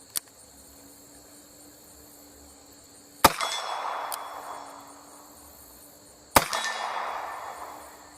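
Gunshots from a .38 Smith & Wesson revolver fired at a swinging target outdoors: a faint crack, then two loud sharp shots about three seconds apart, each with a ringing tail, while crickets chirp steadily behind.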